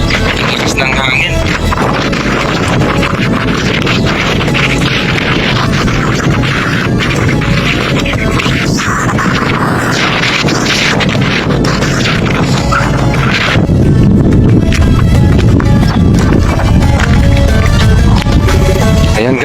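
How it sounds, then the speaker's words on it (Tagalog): Strong sandstorm wind in Riyadh, Saudi Arabia, roars and buffets the microphone without letup, loud and broadband, surging a little heavier near the end. "Lakas ng hangin."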